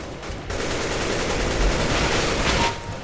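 Sustained rapid gunfire in the video game Counter-Strike: Global Offensive, a dense continuous burst of shots at steady loudness lasting about three seconds, with no talk over it.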